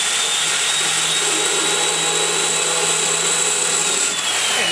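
Valve seats being cut on an Edelbrock E-Street 200 small-block Chevy cylinder head, a continuous loud whirring grind with a steady high whine, unbroken for several seconds and without speech.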